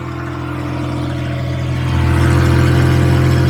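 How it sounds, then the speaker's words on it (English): A 1990s tow truck's engine idles close by with a steady low drone and whir from an exhaust leak near the cap, growing a little louder partway through and holding there. "Bit of an exhaust blow by the cap there."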